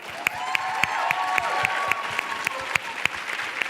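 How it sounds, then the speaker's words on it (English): Audience applause in a high school setting, steady and moderately loud throughout, with sharp regular claps punctuating the dense clapping at a steady rhythm. "Let's give them a round of applause."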